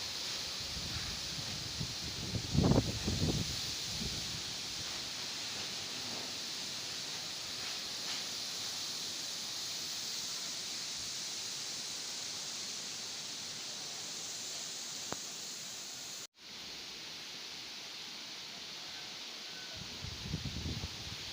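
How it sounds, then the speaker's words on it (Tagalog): Steady broadband wind roaring through foliage on a farm, a continuous rustling hiss with a brief louder gust near the start and another swell at the end, no voices. "malakas ang hangin"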